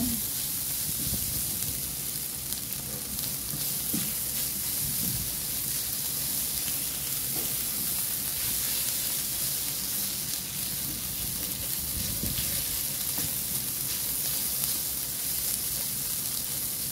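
Igado ingredients, including liver spread, sautéing in a pan with a steady, continuous sizzle and hiss throughout, occasional stirring scrapes and no voices.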